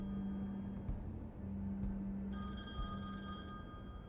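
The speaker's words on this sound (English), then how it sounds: "There's a phone." A telephone bell rings in The Wolf Among Us video game, a steady repeated electronic ring over a low game hum, fairly close and clear with no talking.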